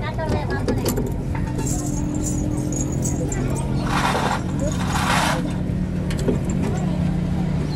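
Metal spanner keys jangle and clink repeatedly by a Pakistani truck during wheel greasing, with bursts of rattling over steady engine rumble while people talk.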